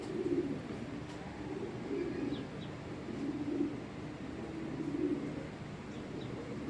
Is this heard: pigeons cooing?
yes